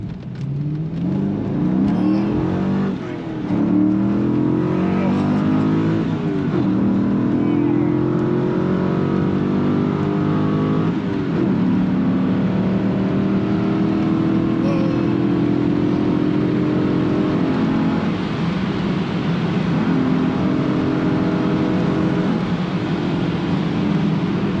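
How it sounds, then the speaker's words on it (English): A 2002 Chevrolet Corvette Z06 accelerating hard, heard from inside the car during a ride: a loud, steady engine drone whose pitch climbs and drops through successive gear pulls. "He's gonna take me for a ride and show me how much faster this is than his WRX."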